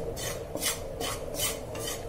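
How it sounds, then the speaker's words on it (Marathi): Gram flour (besan) is dry-roasted in a pan and stirred, with steady rhythmic scraping strokes, about four or five rasping sweeps against the metal, close and fairly quiet. "आता पहिल्यांदा आपण बेसन थोडंसं भाजून घेणार आहोत"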